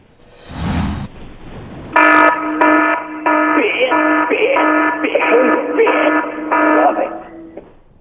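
An alarm sound effect on a radio show blares in repeated loud tonal blasts with short gaps between them, after a brief noisy burst at the start.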